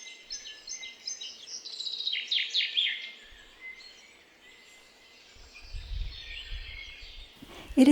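Birds chirp and twitter softly in a quiet garden in June, with a low rustle and a sudden knock near the end.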